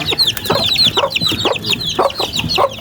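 Young chicks peeping in a steady chorus of high, quick chirps, close and lively, with no voices over them.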